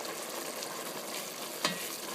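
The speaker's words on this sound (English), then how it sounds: "you want to keep stirring it so it doesn't stick" Rice simmering in liquid in a pot and being stirred, a faint steady bubbling sizzle with soft stirring and one brief scrape near the end, quiet and close, with no talking.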